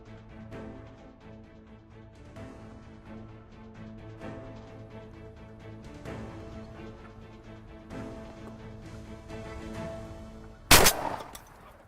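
A single sharp, loud gunshot cracks out near the end while turkey hunting, preceded by a long stretch of steady background music.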